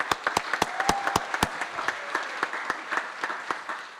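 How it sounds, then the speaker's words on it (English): Guests at a Chamber of Commerce Black Tie Blue Jeans gala applaud, with sharp individual claps standing out near the listener over a softer spread of crowd clapping that thins toward the end. "let's give them a round of applause again."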